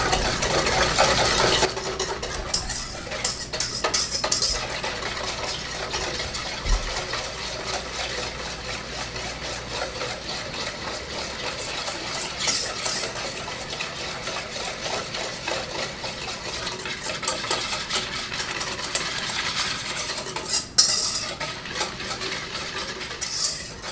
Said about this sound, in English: We're going to whisk this together till it's well blended.